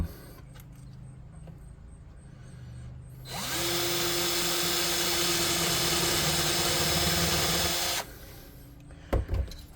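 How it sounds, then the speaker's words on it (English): A power drill whirs steadily for several seconds over faint background noise, then stops, followed by a couple of brief knocks. "I suppose I need the drill for that."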